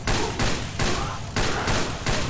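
Gunfire in the video game Watch Dogs comes as dense, loud bursts of rapid shots in three or four clusters with short gaps between them, dominating the whole moment with no talking over it.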